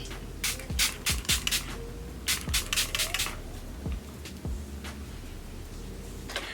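Hangover setting spray misted onto a face in two short clusters of quick pump bursts, each a soft airy hiss, close and fairly quiet.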